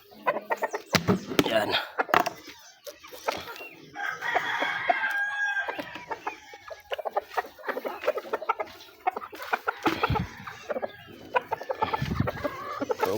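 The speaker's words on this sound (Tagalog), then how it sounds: "papakain po muna ako ng aking alagang manok." A chicken clucks repeatedly up close, with a crowing call partway through and a brief spoken word near the end.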